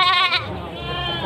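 Goat bleating at a village livestock market where breeding nannies and billies are sold, one loud close wavering bleat, then quieter crowd murmur and market noise.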